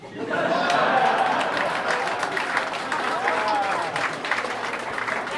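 Comedy club audience at Comedy Works Downtown applauds and laughs during a stand-up set, a dense wash of clapping with scattered chuckles and chatter throughout.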